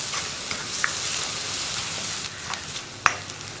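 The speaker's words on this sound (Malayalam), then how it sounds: "ഇപ്പോൾ നമ്മുടെ ഉള്ളി ഒന്ന് കുക്കായി തുടങ്ങുന്നുണ്ട്." Onions frying in a pan for a Kerala mezhukkupuratti, a steady broadband sizzle with a few sharp spoon scrapes and clinks, moderately close and continuous, no voices.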